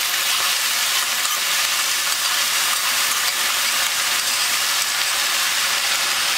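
Steady, loud sizzle of okra frying in a pan as spiced curd is stirred in, a dense continuous hiss with stirring scrapes, close and without voices.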